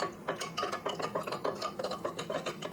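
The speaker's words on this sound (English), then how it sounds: "And just gonna stir this up." A spoon stirring scoops of supplement powder into a drink, giving a steady run of quick, close scraping and light clinking strokes with no voices.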